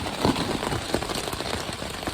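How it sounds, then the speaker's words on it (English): Heavy rain pattering on a tent or surface along the Appalachian Trail, a dense steady hiss with scattered sharper drops, close and continuous with no voices. "As you heard, the rain."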